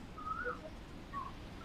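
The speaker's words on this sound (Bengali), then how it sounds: "কোকিলের ডাক টাক শোনালেন প্রথমে" A cuckoo call comes faintly over a phone line during a call-in programme, heard as a few short, thin whistled notes against a low hiss.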